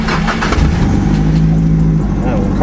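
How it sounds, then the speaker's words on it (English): Engine of a Nissan S chassis car that hesitated on starting, a loud, close, steady low rumble running throughout, with a brief rise in pitch midway. "When the car started up, it did hesitate."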